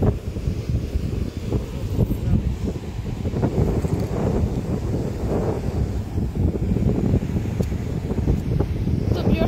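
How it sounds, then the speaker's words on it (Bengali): Strong sea wind buffets the microphone on a fishing trip in rough, wavy water, a continuous loud low rumble with gusty surges throughout, likely with waves and a voice mixed underneath. "এখানে যে কি পরিমাণ ঢেউ আর এত বাতাস"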